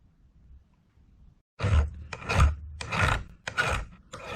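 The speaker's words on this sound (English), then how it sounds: "if you file off the hammered over end" A metal file rasps across hammered-over rivet ends on a cast iron pan, four or five close, loud back-and-forth strokes after a quiet pause, each a coarse scraping burst.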